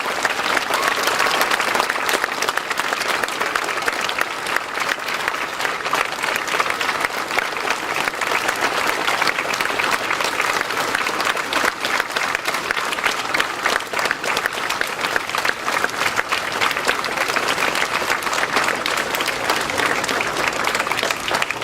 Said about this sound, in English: Let's close with a big round of applause